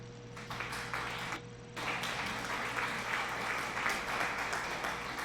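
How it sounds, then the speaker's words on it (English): A short burst of applause from a stream alert sound effect rings out, steady and moderately loud from start to finish, with a brief chime-like ping near the opening. "Thank you for the applause."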